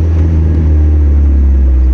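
A manual Mazda Miata being driven, its engine a loud, close, continuous low rumble that holds steady throughout without speech.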